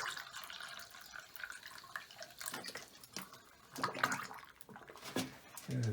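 Water running and splashing into a lodge water tank while the line is primed at season opening, a low steady wash with scattered drips and gurgles, moderately quiet.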